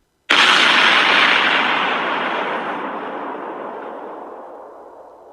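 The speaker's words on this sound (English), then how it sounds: "there was a massive explosion" A massive explosion destroys a cargo ship, bursting suddenly as one loud, broadband blast that then roars and slowly decays over several seconds, close and alone with no talking.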